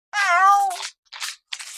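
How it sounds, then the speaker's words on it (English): A cat meows once, long and close with a rising-falling tone, followed by two shorter, breathier sounds after brief pauses. "Oh, they got a cat"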